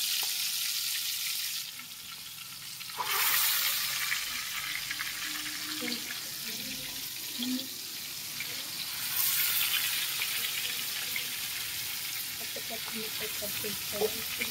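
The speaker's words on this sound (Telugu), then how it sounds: "చికెన్ ఫ్రై కోసం అయితే మ్యాగ్నేట్ చేసుకొని ఇప్పుడైతే ఫ్రై చేస్తున్నాను" Large marinated chicken pieces sizzle steadily as they fry in a pan for chicken fry biryani. The hiss swells in louder bursts, with a few clinks, and a voice speaks over parts of it.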